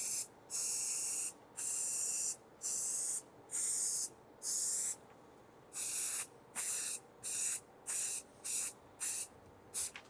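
Black spray paint is sprayed onto an old frame in about a dozen short hissing bursts, steady at first and then quicker and shorter toward the end, close by and with no talking.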